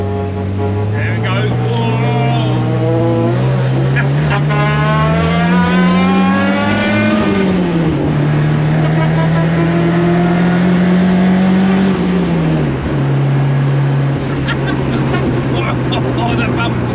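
A 340 bhp Cosworth-powered rear-wheel-drive Mk3 Ford Fiesta accelerates hard, its engine note climbing and dropping through gears, while a voice talks loudly over the close cabin noise.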